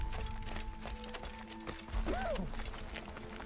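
Horse hooves clip-clop in Assassin's Creed, set in Jerusalem, a faint steady patter under game ambience, followed by a brief whinny.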